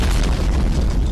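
Deep, sustained booming roar from the Tonga volcano eruption explosion, loud and continuous with heavy low rumble throughout, no voices.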